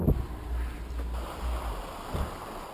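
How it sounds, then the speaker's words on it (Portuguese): The Cascata do Avencal waterfall sends up a steady, broad rushing roar heard from a distance, with gusts of wind buffeting the microphone and a brief thump at the start. "Estamos aqui na cascata do Alencar."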